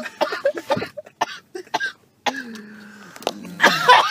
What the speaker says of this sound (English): Are you farting and coughing at the same time?